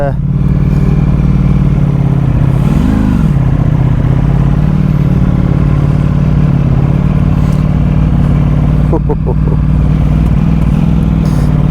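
A 2022 Ducati Panigale V4S motorcycle rides off, its loud, close engine holding a steady low drone with one brief rising rev early on and a short mechanical clatter near the end.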